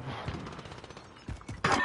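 Rapid gunfire from a shotgun in a video game, a few sharp close blasts amid quieter game noise, with one louder burst near the end.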